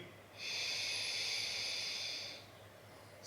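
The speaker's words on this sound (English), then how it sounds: "Start your inhale through your nostrils, mouth remaining closed." A deep, slow inhale through the nostrils with the mouth closed, heard as a steady airy hiss lasting about two seconds. It is close and alone, with quiet pauses before and after.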